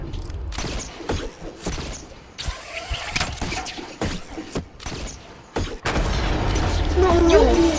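Gunfire in Fortnite cracks out in sharp, irregular shots and bursts, loud and close, mixed with game noise and players talking over it.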